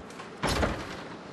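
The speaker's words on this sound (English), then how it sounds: "let's try the door." A door opens in the video game Until Dawn, with a single short thud and scrape, fairly close, standing alone over a low ambient background.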